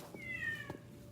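A cat meows once, a drawn-out rising-and-falling call that sounds close and moderately loud over a faint room background, with no voices.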